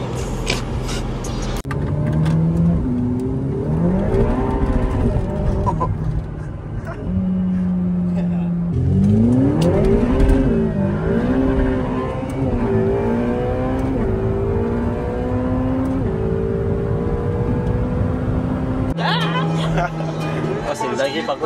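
A Ferrari sports car driving in Dubai, its engine revving and accelerating in rising and falling tones through gear changes, loud and close, with voices chatting over it.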